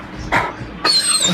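A dog giving two short yips or whimpering barks, close and fairly loud, with a quiet pause between them and no other sound.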